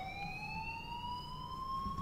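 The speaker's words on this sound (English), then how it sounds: "please turn off that alarm since that's your job" A school alarm in the game Life Is Strange sounds as a steady, rising electronic siren tone, fairly faint and continuous with no talk over it.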